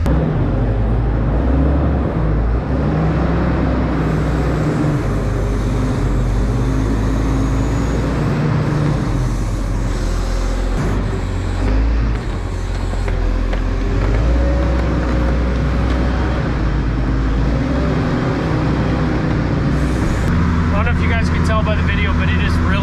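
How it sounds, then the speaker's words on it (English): A wheel loader clears manure from a calf barn, its diesel engine giving a loud, continuous low rumble that shifts slightly in pitch as it works, with a voice talking over it. "it's just so much quicker with the wheel loader"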